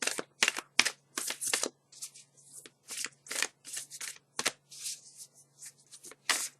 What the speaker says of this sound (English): Now, if you look how I just tried to shuffle the cards, look at that.